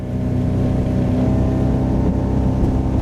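A Bayliner 642 motorboat engine drones loud and steady on the water, a continuous low rumble with a faint whine and no voices.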